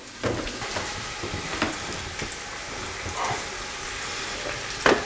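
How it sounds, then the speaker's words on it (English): A taco tortilla laid directly over a gas stove flame, giving a steady roaring hiss with soft crackles and occasional louder pops, close by and without talk. "I'm literally just going to throw the taco into the flame."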